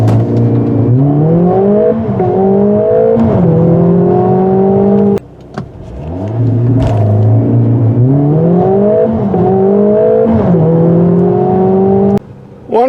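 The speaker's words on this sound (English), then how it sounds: "If you put the vehicle in Sport Plus mode, you have a launch control system for 0 to 60 times." A 2021 Mercedes GLA45 AMG launches under launch control in Sport Plus mode. The engine note climbs hard through several rising upshifts, loud and close, with a brief gap mid-run before it pulls again.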